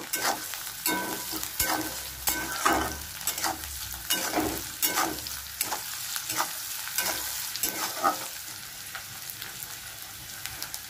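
Chopped onions frying in a pan for an egg curry, a steady close sizzle broken by repeated scraping stirs of a spatula at an even rhythm, with no voices.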